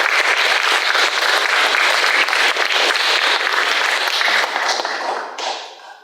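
Loud, dense audience applause at an outdoor Korean walking-trail event, many hands clapping steadily close by before fading out toward the end.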